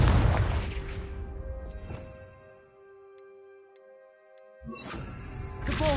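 A Confringo blasting spell explodes in Hogwarts Legacy: a sharp burst followed by a ringing, tonal decay that fades to near silence, then a second loud blast near the end.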